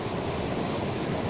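Ocean waves roll in at Wediombo beach in Gunung Kidul, a steady, close, broadband roar of surf mixed with wind noise, with no talking.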